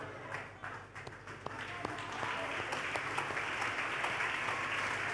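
A church congregation claps at a sermon, starting scattered and building into steady, dense applause that continues, heard from a moderate distance.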